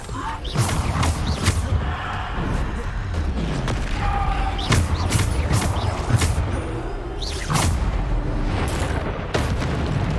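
Spell impacts from Descendo and other combat spells in the video game Hogwarts Legacy land as repeated heavy booms and bursts in quick succession over busy game noise, with a voice calling out between them.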